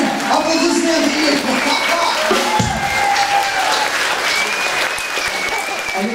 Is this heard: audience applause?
yes